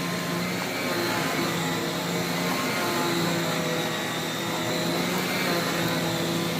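Handheld UV-lamp vacuum cleaner sucking dust mites from bedding, a steady whining motor drone with airy rush, constant and fairly loud, no other sounds.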